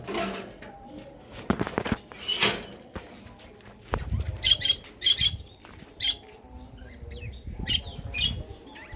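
Pigeons in a colony flap their wings in short bursts while being fed, with scattered chirps, coos and light rustling close by; a voice is faintly present.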